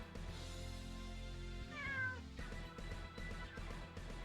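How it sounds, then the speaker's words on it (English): A cat meows clearly, a single drawn-out rising and falling call that stands out over a steady low background hum, with no talking. "Cat says meow"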